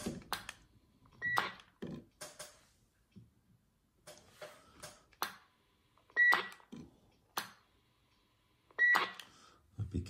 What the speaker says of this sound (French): Ouais, on a bien le Roger Bip